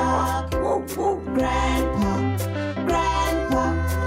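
A dog in a children's nursery song barks repeatedly in loud, rhythmic yaps that land on the beat over bright synthesized music.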